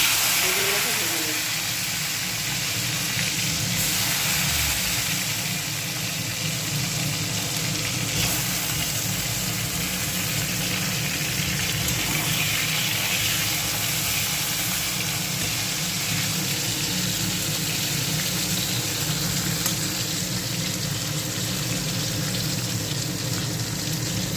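Salted, turmeric-coated eggplant pieces frying in oil for a hilsa curry, a continuous close hissing sizzle that holds steady throughout.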